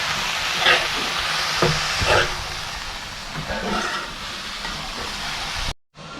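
Wild monsoon greens (kohral) stirred with onion in a pan: a loud, close, continuous frying hiss with scraping stirs and bursts of sizzle, ending in a brief cut, with no voices.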